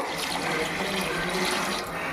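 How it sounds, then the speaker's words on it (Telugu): Water poured into a pot of chicken biryani in a home kitchen makes a steady, continuous splashing fill that stays close and even for about two seconds, with no talking. "వాటర్ పోసుకుందాం."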